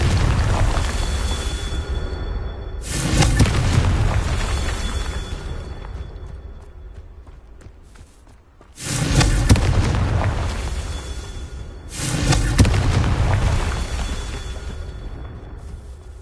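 Confringo fire spell blasts in Hogwarts Legacy erupt as loud, heavy booms, several of them with rumbling decays, alone without talk.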